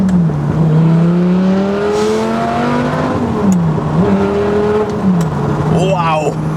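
A straight-piped Lamborghini Gallardo V10 with a manual gearbox revs loud and close from inside the car. Its sustained engine tone climbs and dips through several gear changes, with a sharp blip and crackle near the end.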